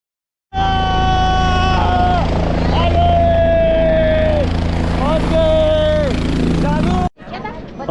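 A loud, constant helicopter engine drone with whining tonal sweeps, heard from inside the cabin over the Kedar valley near Kedarnath, cutting off abruptly near the end.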